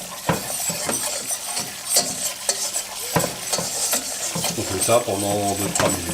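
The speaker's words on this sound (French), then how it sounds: "on fait cuire la farine avec le corps gras" Flour cooking in fat for a beef bourguignon sauce foams and sizzles softly as a spoon scrapes and taps around the pan in quick strokes, close up, with someone speaking briefly over the stirring.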